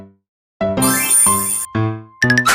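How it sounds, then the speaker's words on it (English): A bell chimes several times in a short sequence, bright tonal dings with ringing overtones that sustain and decay between strikes, loud and close with no talking. "Ding dong, the bell is ringing."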